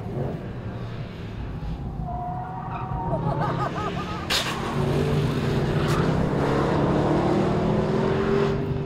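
A race car engine screams up and down through the gears nearby at the Corkscrew, pitch rising and falling as it brakes and accelerates uphill, with some tire noise.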